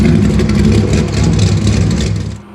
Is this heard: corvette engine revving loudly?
yes